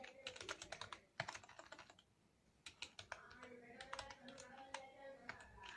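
Rapid typing on a computer keyboard, with close, crisp clicking bursts of keystrokes, a brief pause, then more irregular tapping, all fairly quiet.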